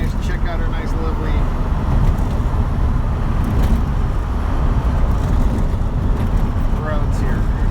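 Rolling along a rough country road in a 1970 Volkswagen Karmann Ghia: continuous close engine drone and jolting road rumble, loud and unbroken, with small clatters and faint higher squeaks near the end.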